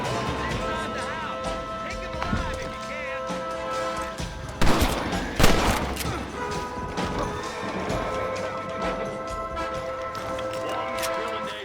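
Gunfire rings out during a Red Dead Redemption shootout, a few sharp loud cracks landing near the middle amid dense game music and ambience.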